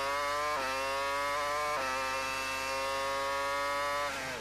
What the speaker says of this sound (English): You can hear how hard the engine works around this circuit.